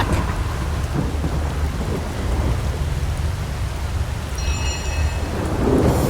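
Hurricane spell storm in the Divinity Original Sin fantasy game, a loud, continuous roar of heavy rain and rumbling thunder with wind-like hiss, steady throughout and unaccompanied by voices.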